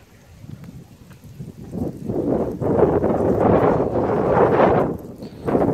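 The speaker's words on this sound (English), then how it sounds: "windy in here" Gusty wind roars across the microphone in a steady, rough rush that builds and stays loud, with brief lulls and a fresh gust at the end.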